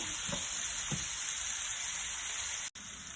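Vegetables frying in a pan for couscous tabbouleh give a steady, close hiss of sizzling with a couple of soft stirring bumps and a brief dropout near the end.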